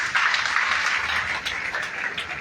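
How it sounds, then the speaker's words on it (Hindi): Loud, steady applause from a live audience fills the short moment with dense, continuous clapping and no speech over it. "जोरदार तालियां।"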